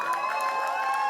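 Audience at a launch event cheering and applauding the musicians, a brief burst of crowd shouting and clapping with a sustained tonal ring underneath.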